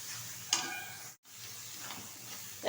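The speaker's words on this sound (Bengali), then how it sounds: "এবার ভালোভাবে কষিয়ে নেব বেশ কিছুক্ষণ।" Mutton with ginger and garlic paste and salt sizzling and being stirred in a pan, a steady close fry with a brief pause midway and soft scraping strokes, no talking.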